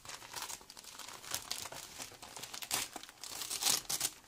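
Paper wrapping on a taped parcel being torn open by hand, close crinkling and crumpling with several sharp ripping bursts that build toward the end, no talk.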